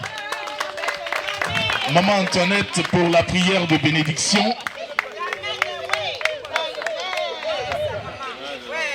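An audience claps steadily at an official ceremony presenting a commemorative cloth, the crisp hand claps running under someone speaking French into a microphone and the murmur of the crowd.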